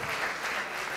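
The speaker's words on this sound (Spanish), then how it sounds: "un fuerte aplauso para estos tremendos hombres" A nightclub show audience gives a short burst of dense, steady applause for a group of male performers, heard at close range.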